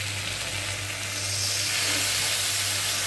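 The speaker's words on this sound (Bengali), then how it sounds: "সবজিটাকে ভালো করে কষিয়ে নেব" Vegetables sautéing in a pan with ginger paste and cumin paste, for a dish of puti fish with vegetables: a steady, close frying sizzle and hiss that swells slightly midway and carries on with no talking.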